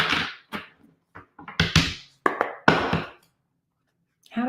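Tarot cards being shuffled by hand, heard as a series of short, close rustling and flapping bursts separated by brief pauses, with no talking.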